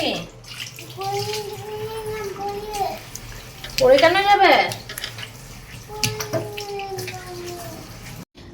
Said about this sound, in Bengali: এখন আমি কড়াইটাকেও ভালো করে মেজে ধুয়ে পরিষ্কার করে নিলাম